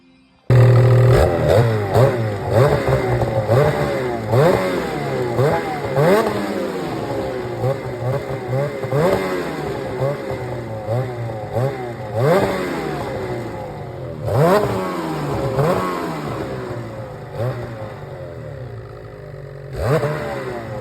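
Dirt bike engine fitted with a GGB trail can exhaust, blipped through a series of sharp revs rising and falling over a steady idle, loud and close with no talking.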